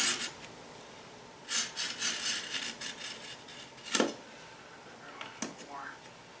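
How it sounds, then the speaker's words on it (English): Rhythmic rasping strokes of a kitchen knife blade drawn across a wetted sharpener, close and fairly loud, in bursts with a couple of sharper scrapes and clinks and pauses between passes. "wetting the blade just helps it move across the sharpener a lot faster"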